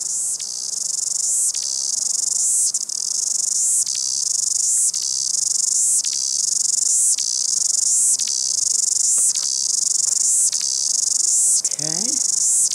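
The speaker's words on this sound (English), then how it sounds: "So I'll play you some individual cicadas just so you know sort of what they can sound like." A loud, buzzing cicada song pulses in regular bursts about once a second, close and continuous, with a brief bird-like chirp near the end.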